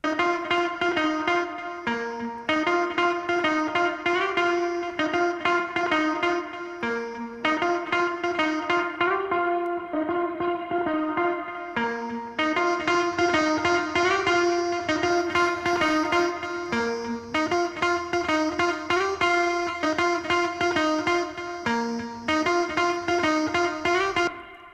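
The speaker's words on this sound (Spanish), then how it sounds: "ya escuchen la guitarra procesada con el Future City Decay" An electric guitar run through a Future City Decay effect plays a repeating, crushed rhythmic pattern of bright, heavily processed notes with echo and reverb tails, loud and steady throughout with no talking.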